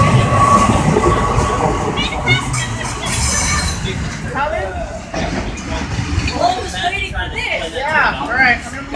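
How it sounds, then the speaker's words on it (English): A train rolls past at a Sacramento–Roseville rail line, a broad rumbling wash with rail noise and clatter throughout, while people talk nearby over it. "Alright, here comes his train."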